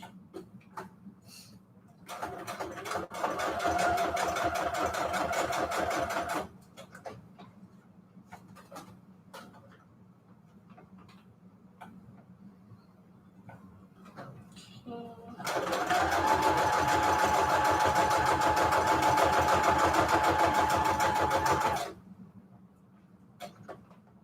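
A sewing machine stitches in two long runs, a steady rapid close whir with a faint hum riding on it. A short pause separates the runs, and quiet handling ticks fill the gaps on either side.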